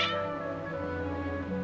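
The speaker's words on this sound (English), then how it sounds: "Your cats seem pretty worked up." Agitated cats meowing in the video game Genshin Impact, several overlapping insistent mews held close and loud for under two seconds, with no talk.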